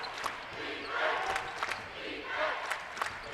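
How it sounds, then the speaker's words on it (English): Spectators at a Division III college basketball game between Whitworth and Johns Hopkins roar in swelling waves, with sneaker squeaks and ball thumps cutting through and an announcer talking over the din. "The crowd has definitely gotten loud, and Matt Logie wants them louder"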